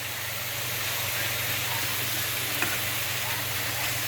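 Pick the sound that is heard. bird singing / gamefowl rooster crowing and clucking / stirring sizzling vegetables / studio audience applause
stirring sizzling vegetables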